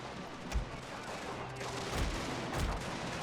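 Cannon fire in a strategy video game: three heavy, booming shots at irregular intervals over a constant roar of battle noise.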